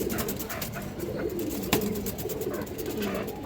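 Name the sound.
pigeon cooing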